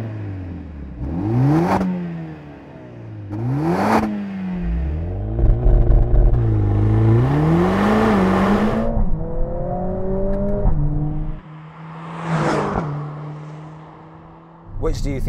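New Mercedes-AMG A45 S engine revving in several sharp blips and longer pulls, loud and close with pops and crackles between revs, dropping back to a steady idle.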